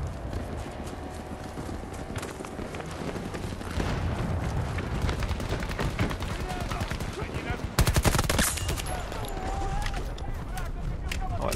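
Gunfire from a gun in a video game rings out as rapid, steady bursts over dense game noise, with a sharper, louder volley near the end.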